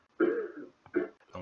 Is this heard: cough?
yes